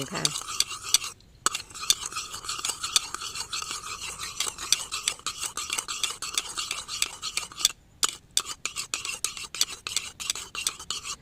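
Spoon stirring MSG and energy drink together in a small container to dissolve them into a plant fertilizer, a steady scraping, clinking swirl that runs continuously and close, with two brief pauses.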